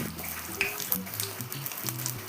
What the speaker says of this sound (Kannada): ನಂತರ ನಾನು ಇದಕ್ಕೆ ಅದೀಗ ಬೆಳ್ಳುಳ್ಳಿ ಹಾಕ್ತೇನೆ ಒಂದು ಐದರಿಂದ ಆರು ಬೆಳ್ಳುಳ್ಳಿನ ಜಜ್ಜಿ ಹಾಕಿದ್ದೀನಿ